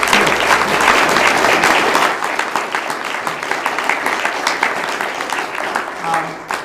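A live audience applauds at a mountaineering sustainability talk, honouring two organisers, Ellen and Roger, with dense, steady clapping that stays strong throughout and eases slightly near the end.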